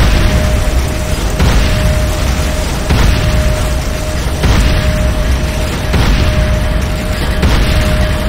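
A Nod Tiberium refinery exploding in Renegade, the Command & Conquer shooter: a loud, dense, continuous roar of blast and rumble with steady pulsing swells throughout, no pause.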